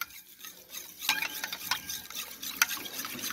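A spoon stirs a small milk sample in a paddle for a mastitis surf test, giving soft, light scraping and clinking strokes with a brief sharper tap near the end, close up and fairly quiet with no talking.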